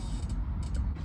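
Metal on a car's grille and radiator core support gets bent back upward with a short, low creaking and grinding strain that has a couple of faint metallic ticks, close and brief.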